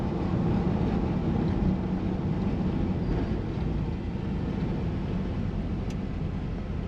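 A steady, low rumbling engine idles continuously in a Ford F100 truck swapped with a Coyote engine, a broad, even drone with no speech.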